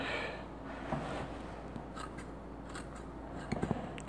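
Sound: handmade Ernest Wright scissors cutting parsley

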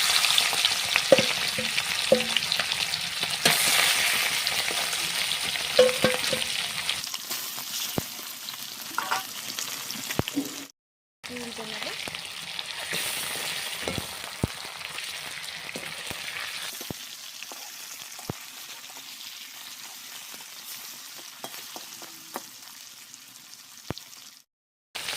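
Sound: sating fish being fried lightly in oil

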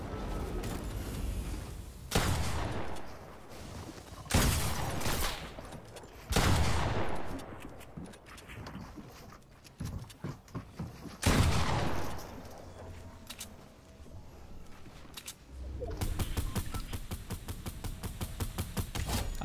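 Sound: gunfire in the video game Fortnite

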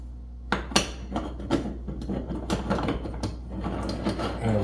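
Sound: screwing the top onto a Bialetti Moka coffee maker

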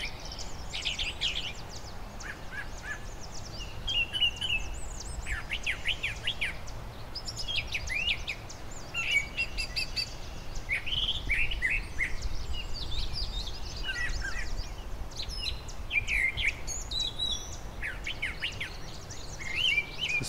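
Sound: birds singing in parkland meadow

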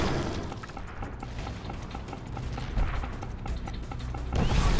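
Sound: bombing run explosions in video game Command & Conquer Kane's Wrath

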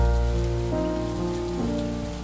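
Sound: rain in Stardew Valley video game

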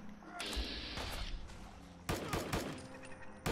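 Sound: gunfire from enemies in a video game (Fallout 4: Far Harbor)

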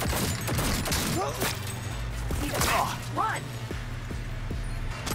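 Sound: gunfire in the video game Cyberpunk 2077: Phantom Liberty

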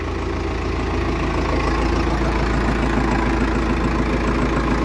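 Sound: four-cylinder tractor engine idling

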